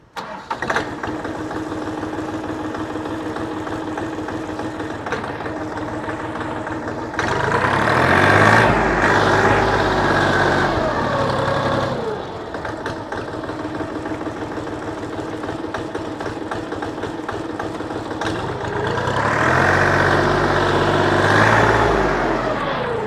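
A used XT 244 four-wheel-drive tractor with a 24-horsepower engine starting twice, each crank catching into a loud, steady diesel idle that carries on between the starts, close by and with no talk.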